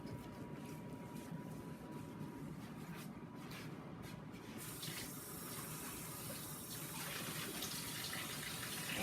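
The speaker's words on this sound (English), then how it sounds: "And give my hands a rinse at the same time." Tap water runs steadily into a sink while hands are rinsed in a home kitchen during chili cooking, a continuous broadband splashing that brightens and grows slightly louder midway through, with no voices.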